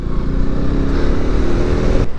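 A KTM Adventure 250 motorcycle being ridden produces a loud, close, steady engine drone with a throbbing low rumble and wind noise, holding an even pace throughout.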